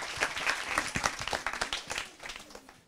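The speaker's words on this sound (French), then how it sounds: "On l'applaudit." An audience at a televised children's programme bursts into a short round of dense clapping that stays fairly loud and even before thinning toward the end.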